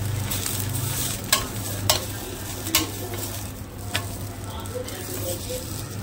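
Potato bhaji frying in a pan over a medium gas flame, a steady low sizzle broken by a few sharp scrapes and clinks of stirring, close and fairly quiet with no talking.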